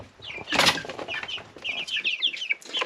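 Young pullet chickens cluck close by in a short burst of overlapping, rapid calls, loud and busy with no voices.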